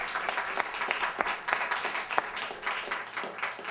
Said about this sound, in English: let's give them a round of applause for their service.